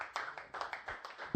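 A congregation at a church service applauds with brisk, uneven clapping, several quick claps in a steady run, fairly faint.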